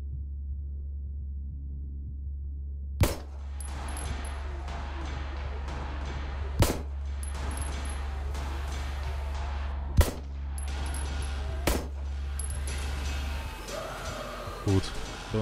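Several sharp, loud shots in the video game Signalis ring out at irregular intervals over a steady low hum, with thin high-pitched beeps between them, including flare shots.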